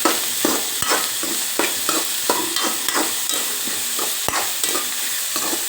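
Green chillies and chopped onion fry in a hot pan, a steady loud sizzle broken by irregular scraping stirs of a spatula, with nobody speaking.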